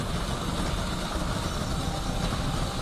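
A car engine runs steadily on a winding ghat road on the Goa to Mumbai route near the Kashedi tunnel, giving a close, continuous low rumble with an even level and no talking.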